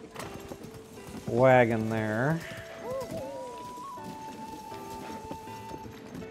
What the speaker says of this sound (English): go ahead and ride your horse over to the front part